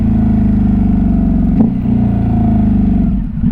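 A 2021 Ducati Hypermotard 950 RVE motorcycle engine drones loudly and steadily, with a brief sharp blip around the middle as the quick shifter cuts and re-fires through a gear change, then settles back to a steady roar.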